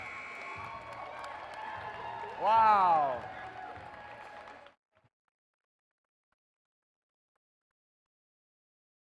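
At a strongwoman competition, an indoor crowd applauds and cheers in a loud, sustained roar with a sharp whistle partway through, then the noise abruptly cuts to silence; someone speaks briefly over it.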